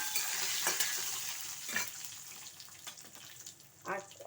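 Cashew nuts sizzle softly in hot oil tempering as a spoon stirs and scrapes them in the pan, the frying faint and close, with a few sharper clinks of the utensil.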